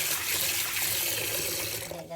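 Tap water runs steadily into a bowl or sink while mung beans are rinsed, a continuous splashing wash that tails off at the end.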